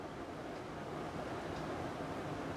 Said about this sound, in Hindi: धान पका है कि नहीं पका है, ये एक आवाज़ होती है जिससे पता चलता है।